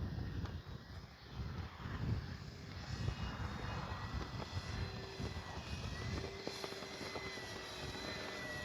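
A Hangar 9 10cc J-3 wooden model airplane engine buzzes continuously in flight, a thin whining drone at moderate distance that rises and falls slightly as it passes.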